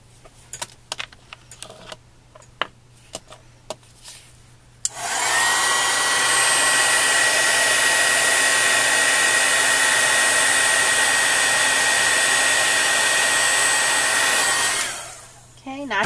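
A few light clicks and taps give way to a heat tool blowing steadily and loudly for about ten seconds, a continuous whooshing roar melting embossing powder before it switches off and winds down.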